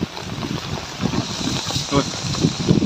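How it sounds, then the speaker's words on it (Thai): A wind and rain storm blows outdoors, a dense, steady roar of gusting wind buffeting the microphone with rain noise underneath, loud and continuous throughout. "ทั้งลมทั้งฝนพี่น้องเอ้ย"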